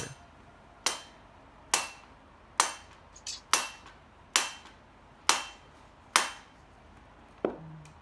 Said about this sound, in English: Then hammer lightly with the wooden hammer.